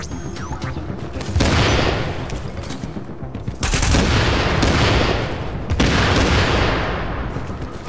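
Grenade launcher fire in a video game, heard as dense, loud bursts of rapid gunfire and booming blasts that roll on in three sustained volleys.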